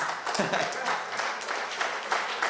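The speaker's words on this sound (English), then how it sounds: "You should clap for that, maybe" Clapping from a crowd gathered at a PNM Sando West constituency annual conference, a steady dense patter with talk mixed in throughout.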